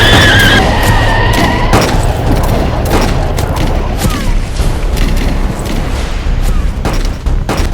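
Heavy gunfire and booming blasts from a 1947 Indo-Pak battle in Kashmir, a loud, dense barrage of shots and thuds rolling on continuously with no voices.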